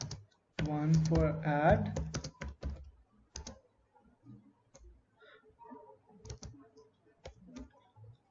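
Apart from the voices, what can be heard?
typing on a computer keyboard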